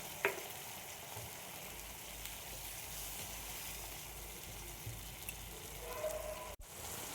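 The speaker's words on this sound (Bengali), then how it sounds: "আর এর সাথে আমি টমেটো একসাথে আমি কষিয়ে নেব।" Tomatoes and spices sizzle in a pan for matar paneer: a quiet, steady frying hiss with a soft tap near the start and a sharp utensil clank toward the end.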